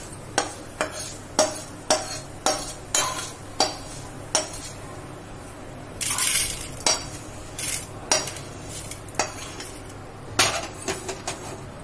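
Urad dal being roasted golden in a pan for curry leaf chutney, with a spoon stirring and scraping against the metal pan in a regular series of sharp clinks and knocks, close and fairly loud, with no talk.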